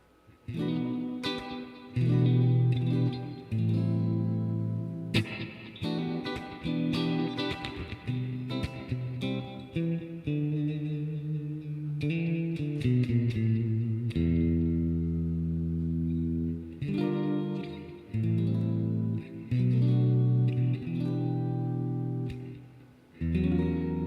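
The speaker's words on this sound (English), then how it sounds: "Man, I love those dreamy chords." An electric guitar plays slow, sustained dreamy chords through effects, ringing and shimmering with reverb, and the chords change every few seconds over a long stretch with no voices.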